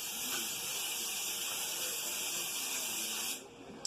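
Cooking spray hissing onto a pizza pan in one continuous close spray of about three seconds, ending abruptly.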